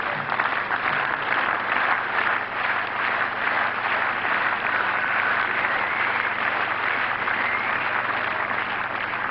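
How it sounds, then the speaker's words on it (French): Sustained applause and encouragement from the tennis crowd at Roland Garros 1997 during Sampras vs Santoro, a dense, even roar of clapping lasting the whole stretch without a break. "D'où les applaudissements et les encouragements là du public"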